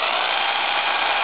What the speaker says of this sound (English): I've been trying to do this with a drill and a wire brush.